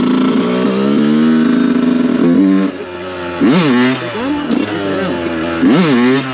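A Yamaha YZ 125 two-stroke motocross bike engine, loud and close, holding a high buzzing rev, then blipping through sharp repeated rises and falls of the throttle.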